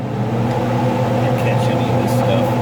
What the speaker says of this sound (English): I'm gonna turn this fan up here.